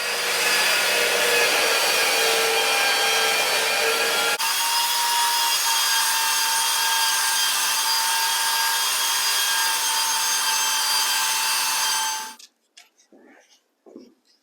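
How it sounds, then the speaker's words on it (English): Belt sander grinding along the edge of a wooden interior door being narrowed, a loud, steady whining buzz with a rough scraping texture, close by, shifting tone partway through and then switching off, followed by a few faint knocks. "I think I'm going to switch over to the belt sander."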